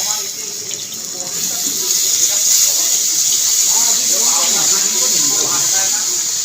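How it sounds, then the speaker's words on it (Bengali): Water poured into cooked-down masala for an Afghani egg curry gravy, a steady hissing, splashing stream that continues throughout at close range, with a voice faintly underneath. "পরিমাণ মতন জল দিয়ে দেবো।"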